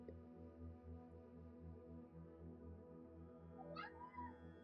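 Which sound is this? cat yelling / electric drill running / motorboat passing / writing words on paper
cat yelling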